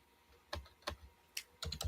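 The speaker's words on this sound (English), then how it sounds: "I was typing in the chat." Computer keyboard keys tapped in a few short, irregular bursts of crisp clicks, close and fairly quiet against a faint room background, with no one talking.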